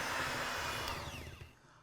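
A Shardor hand mixer whirs steadily on speed 1 in the turbo setting, a close, continuous motor hum that slowly eases off toward the end with no talk.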